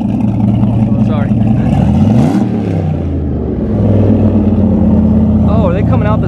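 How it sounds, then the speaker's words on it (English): A drag-prepped Chevrolet Camaro ZL1 on drag radials revs at a car show, its engine rising and falling in a gnarly burble close by while people talk over it. "So this is a ZL1 Camaro. This thing sounds gnarly."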